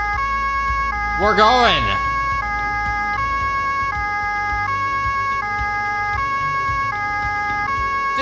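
A police car siren in the video game Autobahn Police Simulator 3 wails in a steady two-tone alternating pattern, loud and continuous, with someone talking briefly over it near the start.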